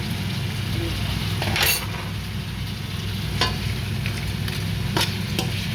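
Crab curry with spice powder is stirred in a sizzling pan, a steady close fry broken by a few sharp clinks and scrapes of the spoon against the pan.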